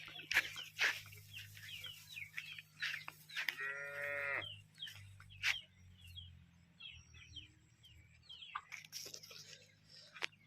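On a farm, an HF cross cow with black-and-white patches gives one clear, mid-distance moo, while chickens cluck and a rooster calls around it over a steady low hum.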